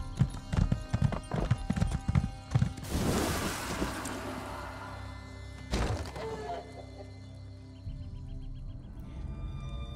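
A horse trots in the video game The Elder Scrolls Online, with rhythmic close hoof clip-clops, a whoosh of movement, then quieter hooves resuming.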